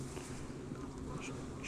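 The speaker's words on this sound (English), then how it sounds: "there's no bees there, that's just wasps" Wasps swarm around a weak beehive, a dense, continuous buzzing drone of many insects close to the mic, steady in loudness throughout with no voices.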